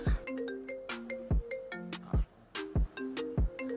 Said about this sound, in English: Boss, your phone they ring, go.